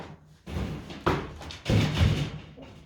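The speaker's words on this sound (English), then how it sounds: "Just knocking down the radiator cover." A radiator cover in a bedroom is knocked down and shifted, giving a series of close, dull thumps and bumps with scraping in between, at moderate loudness.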